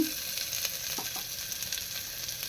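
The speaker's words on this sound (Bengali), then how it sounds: "এটা ফোড়ন দিয়ে পেঁয়াজ, রসুন এটা আমি নাড়াচাড়া করছি" Onion and garlic fry with whole cumin in oil in a pan, giving a steady close sizzle while they are stirred, with a few soft scrapes underneath.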